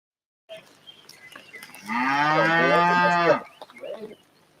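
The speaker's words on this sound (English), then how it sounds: "my cows are mad right now because they want to move into the other field" Cows in a field moo loudly and close by in one long, drawn-out call, with softer shuffling and faint farm sounds before and after, in the aftermath of Hurricane Milton.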